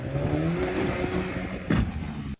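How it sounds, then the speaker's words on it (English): A car engine revs hard and climbs toward redline, holding a rising whine with a sharp clattering burst near the end as it shifts gear, loud and close with no talk over it. "listen how high the engine red lines before he actually gets some"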